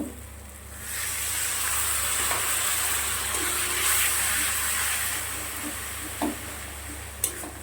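Water hits a frying paste of ground ginger and cumin for a potato dum, setting off a loud, steady hissing sizzle that holds for several seconds, with a couple of light clinks near the end.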